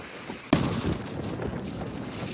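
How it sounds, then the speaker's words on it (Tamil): Storm-driven waves crash near boats on the Jaffna coast, arriving with a sudden loud surge and continuing as a rough, wind-buffeted roar close to the microphone. "அலைகள் அடிக்கிற வேகங்கள் அதிகரித்து அந்த கட்டுகள் கூட உடையிறதுக்கான வாய்ப்புகள் அதிகம் இருக்குது"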